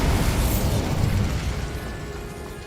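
A Bombarda blast spell in Hogwarts Legacy, a loud rumbling explosion that bursts at once and slowly fades over a couple of seconds.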